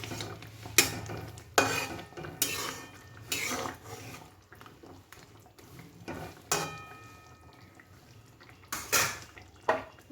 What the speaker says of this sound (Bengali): ঢাকনাটা খুলে একটু দেখে নিলাম, একটু নাড়িয়ে নেব